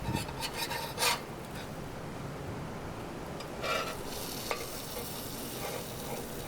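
Ham and cheese sandwich on a Weber Q griddle, giving a steady, soft sizzle close by, with a few scraping and rubbing touches on top and no voices.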